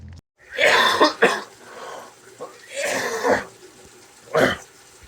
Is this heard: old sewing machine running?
no